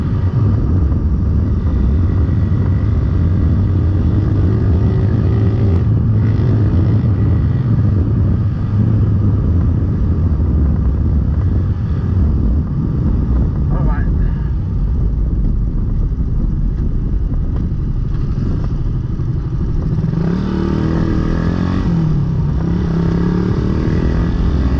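A Suzuki Raider 150 motorcycle fitted with a 28mm carburetor runs steadily for a long stretch, a loud close engine drone with small rises and a brief rev near the end, no voices.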